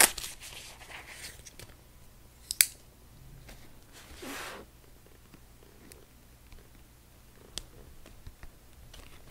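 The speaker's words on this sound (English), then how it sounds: "go ahead and cut the seal here on it" Blade slicing the seal tape on an Iogear trackball keyboard box, faint close scratching and a few sharp clicks over a low steady hum, with one longer rasping pull in the middle.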